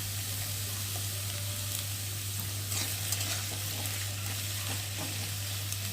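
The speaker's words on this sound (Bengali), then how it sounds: "আলু আর বেগুনটা একটু ভালো করে ভেজে নেবো" Potatoes and eggplant frying in oil in a home kitchen, a steady even sizzle with light scraping and stirring clicks, close and continuous under a constant low hum, no one talking.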